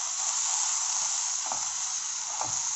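Vegetables, including beans, are stirred in a hot pan for a puffed rice snack, with a steady, close sizzle and hiss and a couple of soft scraping strokes near the end.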